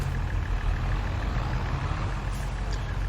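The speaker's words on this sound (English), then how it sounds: "Start all the engines," Farm vehicle engines idle in Farming Simulator 22, a steady low rumble with a faint regular ticking, continuous and even throughout with no talk.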